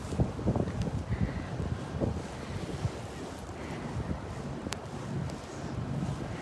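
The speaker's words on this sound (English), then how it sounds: "Now the wind is the other direction." Strong gusting wind buffets the microphone during a heavy snowstorm in a New York City street, a steady roaring rumble with low thumping gusts and a faint whistle, no talking.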